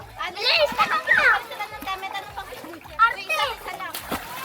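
Children shout and chatter at a farm swimming spot while water splashes from a child jumping in, with brief watery bursts under the excited voices.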